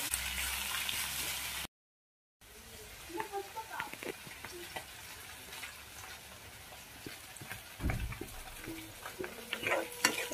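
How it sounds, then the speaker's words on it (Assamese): Sliced onions fry with whole mustard seeds in hot mustard oil, making a faint, continuous sizzle with scattered stirring clicks and a brief silent break near the start. "সেইখিনি তেলতে কাটি থোৱা দুটামান পিঁয়াজ এতিয়া ভাজি ল'ম মই ৰঙচুৱাকৈ"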